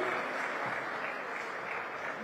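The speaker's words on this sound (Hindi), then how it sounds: "जोरदार तालियों से एक बार अभिनंदन करिए" A stage audience at a Holi special event claps loudly and continuously, a dense, even roar of applause with no break.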